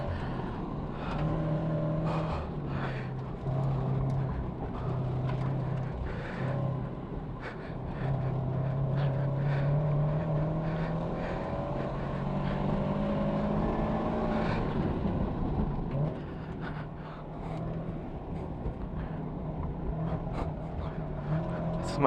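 A car fitted with adjusted coilovers runs a hot lap on a race track, its engine note heard from inside and rising and falling with gear changes and corners. Its drone stays steady and close throughout.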